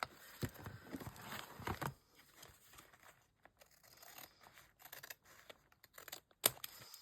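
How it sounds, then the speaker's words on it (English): Scissors trim excess paper from a handmade junk journal page: a burst of crisp, close snips and rustling paper, then quieter handling sounds and one sharp final cut. "Just trim off the excess."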